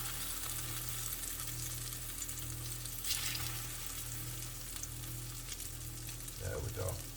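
Brioche French toast slices fry in a buttered pan, giving a steady close sizzle throughout with a few soft scrapes and a brief clatter near the end.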